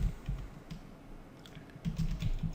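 Quiet, irregular clicking of keys as someone types on a computer keyboard while coding a Bootstrap website, with brief bursts of keystrokes separated by short pauses.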